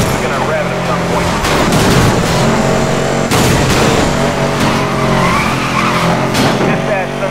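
Race car engines roar in Need for Speed Most Wanted 2012 gameplay with a Chevrolet Corvette ZR1, loud and continuous, with tire skids and impacts layered throughout and game voices mixed in.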